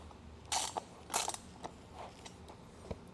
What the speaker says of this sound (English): wrench them down